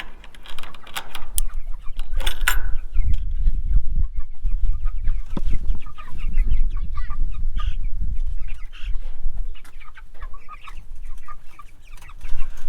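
Meat chickens in an outdoor chicken tractor pen, about five weeks old, cluck and peep in a busy, overlapping chorus close by, with scattered rustling and knocks underneath.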